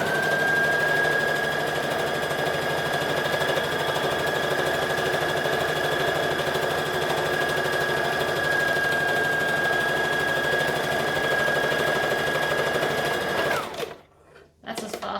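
A sewing machine stitching a blouse-style top runs in one steady, fast, whirring drone with a high mechanical whine, close and loud, before stopping abruptly near the end.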